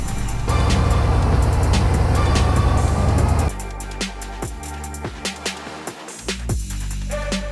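A Bugatti Veyron with a W16 quad-turbo engine drives past, a loud dense engine roar for a few seconds, then quieter running with intermittent clicks and knocks.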